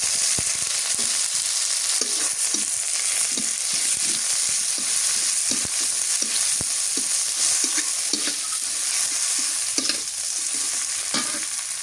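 Green chillies and dried chillies fry in hot oil in a pan, a steady close sizzle running throughout with intermittent stirring scrapes and small spatters.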